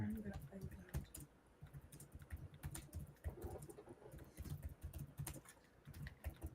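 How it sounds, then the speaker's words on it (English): Keys patter on a computer keyboard in quick, irregular bursts, faint and close, with people talking quietly in the background. "Who's typing?"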